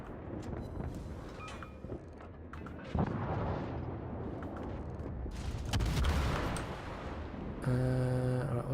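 Naval guns fire in World of Warships during a Halloween mode battle, a dense stream of booms and distant rumbling salvos with sharper blasts near the end, a steady game soundscape without talk.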